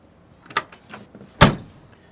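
The door of a 1970 Chevrolet Nova SS closes: a few light latch and handle clicks come first, then a single solid, close slam that fades quickly.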